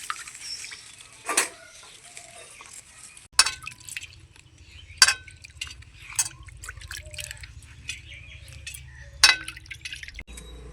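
Taro stems being washed by hand in a bowl of water, soft sloshing and dripping with occasional sharp clinks against the container, fairly quiet and close, no voices.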